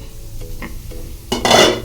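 A pizza dosa cooks covered on low heat in a pan, giving soft stirring and scraping touches followed by a brief rising sizzle near the end, close and moderately loud with no talk.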